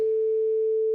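A pure, steady sine-wave tone from the Reason Maelstrom synth with a clean default patch, held at one pitch for about a second and cut off abruptly at both ends.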